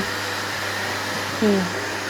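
A household vacuum cleaner runs during home cleaning, a loud, steady, close whooshing drone that holds throughout, with a brief voice rising over it near the end.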